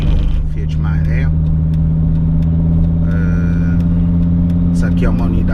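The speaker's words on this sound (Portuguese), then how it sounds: "eu tô aqui dirigindo um Fiat Maré" A 2001 Fiat Marea HLX 2.4 five-cylinder sedan drives along, its engine a steady close drone heard from inside the cabin, with someone talking over it throughout.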